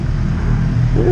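A small 50 cc motor scooter engine idles nearby, a steady low buzzing drone with a slight rise in pitch near the end.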